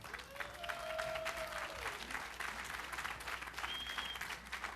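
Crowd applause at the Konami E3 2010 press conference, a steady broad patter of clapping throughout with a faint tonal whistle-like sound drifting over it.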